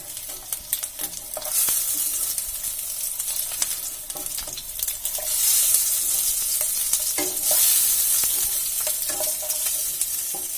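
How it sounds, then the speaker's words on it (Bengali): An egg fries in a pan while being stirred and turned, giving a steady crackling sizzle with irregular scraping clicks and a few louder bursts, close and alone. "ডিমটা ভাজা হয়ে গেছে, তুলে নিচ্ছি"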